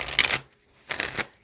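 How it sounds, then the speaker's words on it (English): A full deck of cards is shuffled upside down in two quick riffle bursts separated by a short pause, crisp and close. "I was just shuffling the whole deck upside down."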